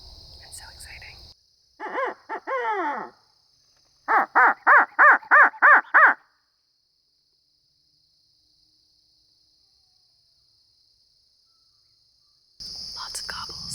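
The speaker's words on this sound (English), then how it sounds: "Lots of gobbles, lots of turkeys all around us." Wild Osceola turkeys gobble in the Florida woods at dawn, two separate bursts of rapid, rattling gobbles at moderate distance, the second a fast series of about six pulses, with quiet stretches and faint rustling between.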